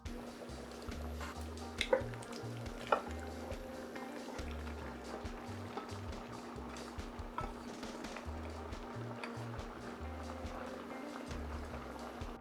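Pasta being stirred into coconut shrimp Alfredo in a pot makes soft, wet squelches and light scraping taps over a low steady hum.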